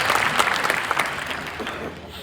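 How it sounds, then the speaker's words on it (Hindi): An audience at a Hindi poetry recital claps in response to the poet's request, producing a dense, steady patter of hands close by with a few louder claps standing out over the short stretch. "एक बार मुझे ताली बजा के बताया।"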